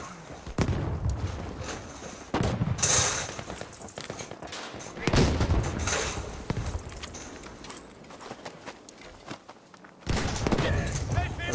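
Video game gunfire rattles in bursts alongside a grenade explosion, heavy booming hits and volleys of shots repeating over several seconds, with a player's voice talking over the action.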